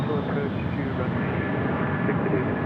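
A large, heavily loaded Alaska Airlines jet on visual approach to a Phoenix Sky Harbor runway makes a steady, broad engine roar that holds at an even level throughout, with radio-style talk faintly under it.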